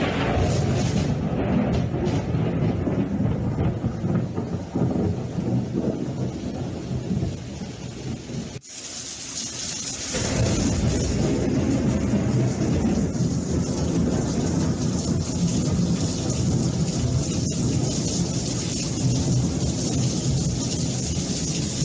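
A recording of a thunderstorm is played back in a church during a Friday worship service. Rain hisses steadily and thunder rumbles loudly, with a sudden sharp crack partway through before the roar of rain and thunder resumes.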